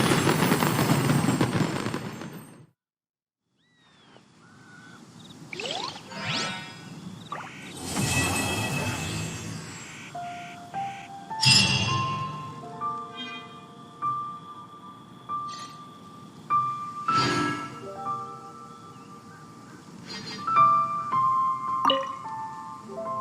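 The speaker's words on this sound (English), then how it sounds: "What did you think of this year's fireworks display?" Fireworks display at the Lantern Rite festival in the video game Genshin Impact: repeated crackling bursts and pops at irregular intervals, mixed with musical, chime-like tones and a short quiet gap near the start.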